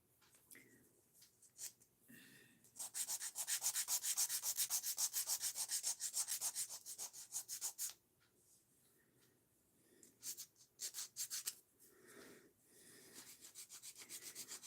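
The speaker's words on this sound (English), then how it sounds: "I prefer an 80 grit file for shaping the sides and the free edge" Acrylic nails being shaped with a coarse 80 grit nail file, giving rapid scratchy rasping strokes close up, at first in short bursts, then a long steady stretch of filing, then more intermittent strokes.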